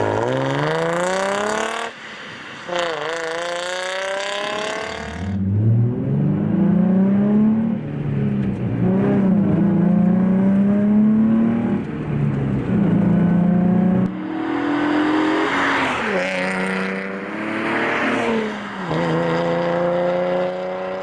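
Nissan 350Z running with a Flowmaster catback exhaust, revving up hard and dropping back several times, a loud close raspy engine note that climbs, settles into a steady drone and climbs again.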